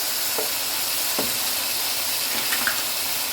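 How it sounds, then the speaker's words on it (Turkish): Steady hiss of peppers frying in hot oil, with a few faint pops and clinks of stirring over the constant sizzle. "pembeleşene kadar kızartıyorum."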